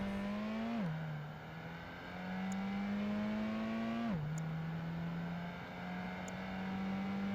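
Sports convertible engine in the Project Gotham Racing 2 video game, a steady droning hum that rises in pitch and drops twice at gear changes, looping calmly without talk.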